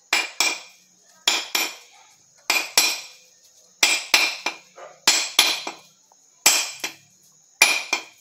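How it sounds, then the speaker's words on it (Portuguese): Small sickle blade tapping around a dry coconut shell to split it in half, sharp hard knocks in loose pairs and clusters, about a dozen strikes close up, with quiet gaps between them. "Pega uma foicinha e começa a bater do lado da lâmina"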